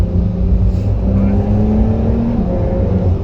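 A sports car downshifts and accelerates, its engine holding a loud, steady drone whose pitch rises slowly and then drops, heard from inside the cabin with a constant rumble underneath.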